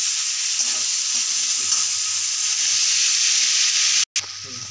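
Masala paste for a mixed vegetable curry being roasted in a pan, a loud, steady sizzle with stirring scrapes, continuous and close, cut by a sudden brief drop near the end.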